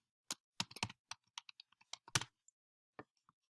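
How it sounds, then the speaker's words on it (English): Scattered taps on a computer keyboard, close and fairly quiet, coming in uneven bursts with short pauses between keystrokes and a few louder clacks. "I cannot type right now."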